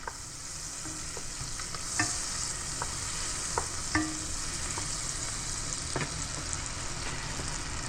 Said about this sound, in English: we're going to take our butter and put that into our pan.